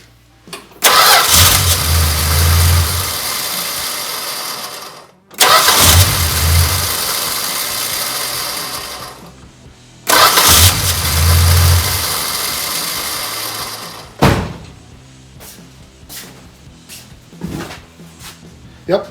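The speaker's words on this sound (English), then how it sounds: "Let's see if it cranks." A 1974 Dodge Dart engine cranks in three long, loud bursts separated by brief pauses, then catches and settles into a rough idle with a few sharp clicks and knocks near the end.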